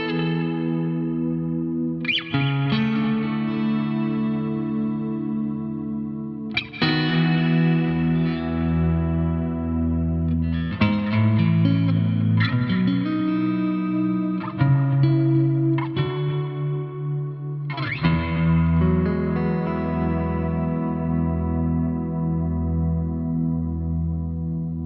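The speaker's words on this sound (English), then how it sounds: "we're going to try some ambient type playing, and we're going to go back to the V4 clean, again with a little compression" An Aria Pro II J-1 electric guitar played clean and ambient through a V4 amp with light compression, reverb and delay: sustained chords and notes ring out, each new strum blooming with echoing tails, no talk.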